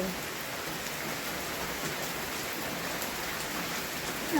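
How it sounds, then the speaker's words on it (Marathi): Steady heavy monsoon rain in Pune pours down continuously, a dense hiss of drops on surfaces filling the whole stretch, close and loud. "बघा किती पाऊस"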